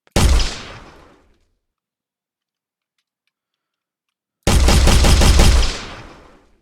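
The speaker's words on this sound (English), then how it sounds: "Shoot it all." Two loud bursts of rapid automatic gunfire from a 3D temple-escape video game, the first short and the second lasting about two seconds, separated by silence.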